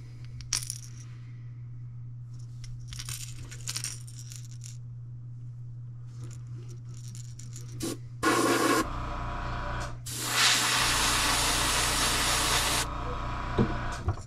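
An airbrush sprays paint onto a fishing lure: a short sharp burst of hiss, then a longer sustained spray lasting a few seconds, close and loud over quiet workshop background.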